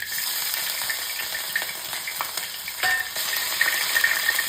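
Curry leaves and crushed ginger fry in a pan with a bright, steady sizzle and occasional sharper pops and scrapes, close and loud, with no voices.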